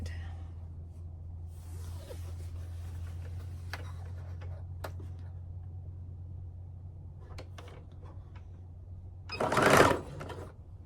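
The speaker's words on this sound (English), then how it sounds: "And my machine, when you reverse it, it goes fast." Sewing machine stitching a pillow case, a low steady motor hum with scattered faint clicks, ending in a brief louder burst near the end.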